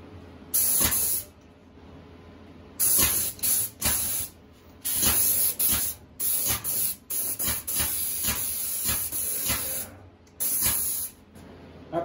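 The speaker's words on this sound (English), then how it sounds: "And we'll spray another coat of lacquer on it." Repeated bursts of spray hissing from a spray gun applying lacquer to an acoustic guitar, short and longer blasts separated by brief pauses, close and fairly loud.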